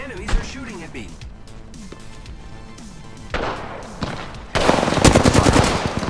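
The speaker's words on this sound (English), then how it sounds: "The enemies are shooting at me." Enemies fire on the player in the Apex Legends video game, with gunfire building from scattered shots into a loud, continuous rattle over the last seconds, mixed with game effects and talk.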